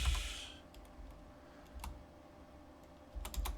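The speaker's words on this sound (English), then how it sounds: "I'm going to type in minus." Several light keystrokes on a computer keyboard, quiet, sparse and irregular clicks against a soft room hum, with a brief louder burst at the start and a quick cluster of taps at the end.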